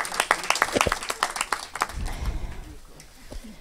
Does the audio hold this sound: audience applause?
yes